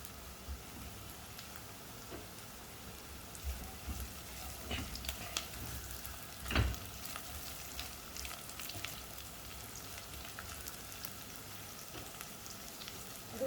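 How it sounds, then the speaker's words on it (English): Lemongrass fries in oil as the base for a Malaysian fish pindang soup, giving a soft, steady sizzle with scattered crackles and one louder pop midway. "Let it fry in the oil."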